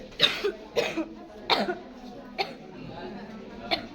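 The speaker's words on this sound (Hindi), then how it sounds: "खांसी आ रहा है।" Several sharp coughs in a row, fairly close, with brief pauses between them and a few quieter coughs trailing off at the end.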